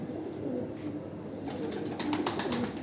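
Sivas pigeons cooing in a loft, low soft coos rising and falling over a steady background hum, with faint scratchy sounds joining toward the end.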